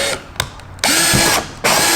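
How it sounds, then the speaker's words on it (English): Power drill boring a pilot hole into a kayak bracket during an upgrade kit install: a short whir near 0.4 s, then two long, loud sustained drilling bursts with a brief pause between, close up and alone. "I'm going to drill my first pilot hole right here in the front"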